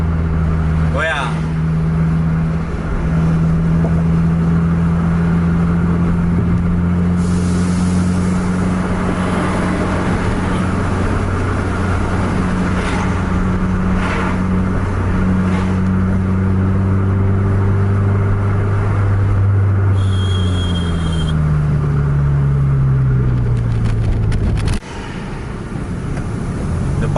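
A double-decker bus racing at speed on an Indonesian road, its engine droning and climbing in pitch through long sustained revs, loud and close, with a brief high tone near the end.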